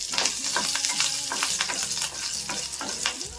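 Mustard seeds, urad dal, dried red chillies and curry leaves temper in hot oil, giving a close, loud sizzle with dense crackling, spattering pops and repeated scraping stirs of a spoon against the pan, with no voices.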